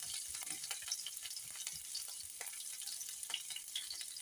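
Green chillies, cumin and mustard seeds sizzle in hot oil for a Telugu puffed-rice upma (uggani): a steady, dense crackle with scattered small pops throughout, close and even, with no one speaking.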